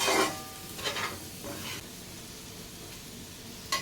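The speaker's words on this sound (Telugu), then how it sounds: "ఇదంతా కూడా మసాలా దీనికి పట్టించేస్తే ఇది కూడా చక్కగా ఆయిల్లో వేగిపోయిద్దండి" Spice-coated pulao ingredients fry in oil and ghee with a close, crackling sizzle. Several stirring scrapes sound in the first couple of seconds, then the sizzle goes on steadily with one last scrape at the end.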